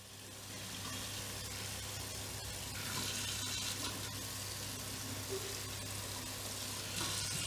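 Hot water pours steadily from a tap at a campsite, a continuous even rushing hiss that stays fairly quiet and unbroken throughout.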